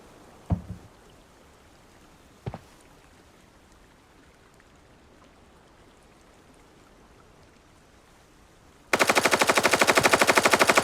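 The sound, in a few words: gunfire in a firefight, video game Arena Breakout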